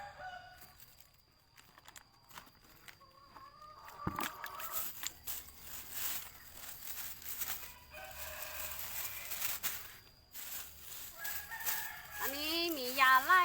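Chickens on a Thai village poultry farm cluck and call sporadically at moderate distance, with a rooster crowing loudly near the end over faint background rustle.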